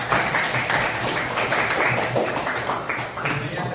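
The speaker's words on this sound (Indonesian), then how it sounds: "kita sekali lagi kasih tepuk tangan untuk kalian semua" An audience at a teachers' coaching and academic supervision session claps, a dense, fairly close patter of hands that continues steadily throughout.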